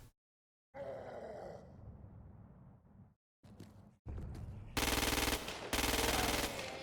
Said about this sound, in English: That's an SMG.